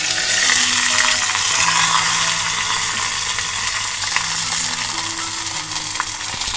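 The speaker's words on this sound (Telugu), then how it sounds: "ముందుగా కలిపి పెట్టుకున్న పెరుగుచారులో తాలింపు వేసుకుందాం." Mustard seeds, cumin, chillies and curry leaves tempered in hot oil and tipped into curd rasam give a steady, close crackling sizzle. It holds for several seconds with a few faint clinks and no talk.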